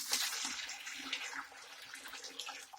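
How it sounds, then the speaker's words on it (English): Water poured into a bucket for mixing tile thinset, a steady close splashing and gurgling stream that lasts the whole moment. "I'm going to guesstimate the amount of water I need to start with"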